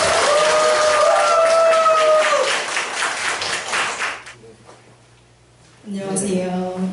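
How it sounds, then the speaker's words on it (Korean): Audience clapping at a celebration performance featuring poetry recitation, a dense burst of applause for about four seconds that fades out, followed by a pause and a voice beginning to speak. "박수 부탁드립니다."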